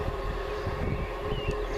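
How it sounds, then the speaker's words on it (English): A Northern Rail class 158 diesel unit at Hull station, a steady low engine rumble with a faint sustained whine, continuous and fairly close, no talking. "here's my train to take me now to Selby. The 1728 Northern Rail service to York from Hull"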